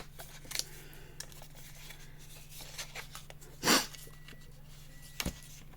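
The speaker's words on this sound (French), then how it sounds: "Alors, on coupe le carré en bas." Scissors snip through a square of patterned paper for a scrapbook album, a single crisp cut standing out in a quiet room with a few lighter rustles and clicks around it.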